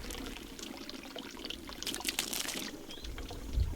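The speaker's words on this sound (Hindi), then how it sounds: "यहाँ पर भी देखो लोकली कुछ इंतज़ाम है पानी का। झरने का पानी है पीने के लिए" Spring water flows from a local natural drinking source on a mountain trek near a fort, a steady close trickle and pour with louder splashing bursts in the middle.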